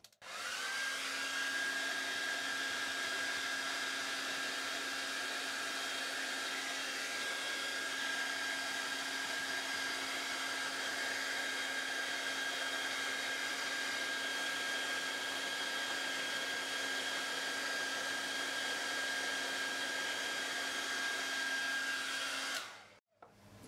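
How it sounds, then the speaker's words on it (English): A hair dryer blows steadily at close range with a constant high whine, running alone for over twenty seconds before switching off. "if I put the hairdryer back on it"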